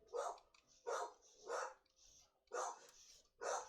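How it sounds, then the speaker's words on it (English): A dog on the street outside a house, out on a walk, barks five times in a loose rhythm; the barks are moderately distant and fairly faint, with no other sound between them. "You can tell by the bark that somebody's walking their dog down the street."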